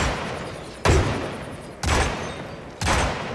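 Three loud gunshot bursts at the shooting range in the Hitman game's Colorado mission, spaced about one second apart, each with a sharp broadband attack and a lingering tail, with no talk.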